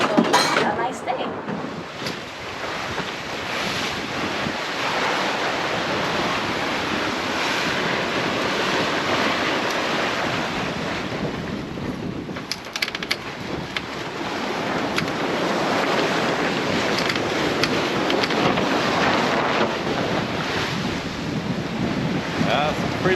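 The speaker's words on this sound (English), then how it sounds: "Pretty big waves right now." Big Atlantic ocean waves surge and wash around a sailboat at sea in picked-up wind, a loud, continuous roar of surf and gusting wind noise across the microphone with a brief lull midway.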